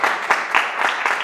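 A young man receives a brief round of applause at a rabbi's lecture: several quick, close bursts of clapping in a short, rhythmic patter.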